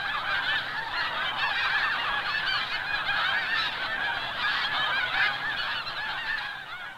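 Snow geese honking among Texas rice fields and cattle ranches, a dense chorus of overlapping nasal calls, steady and fairly loud throughout with no voices.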